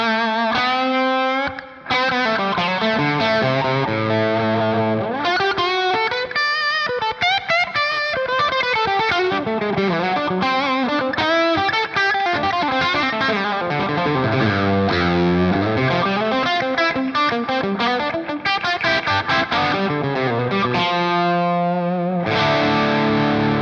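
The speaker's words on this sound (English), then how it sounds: "the overdrive on the Michelangelo sounds like this" Electric guitar through a Dophix Michelangelo overdrive pedal, playing a sustained, continuous lead passage of bending notes and fast runs, loud and close with thick driven distortion, no talking.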